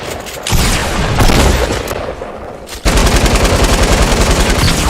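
Rapid bursts of gunfire in a Fortnite battle royale match, loud and dense, with a slightly quieter spell in the middle before heavy sustained shooting resumes.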